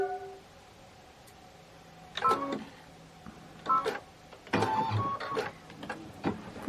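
Embroidery machine stitching a placement outline for a Kimberbell project, intermittent bursts of quick mechanical whirring and clicking with short pauses between runs, close and fairly quiet.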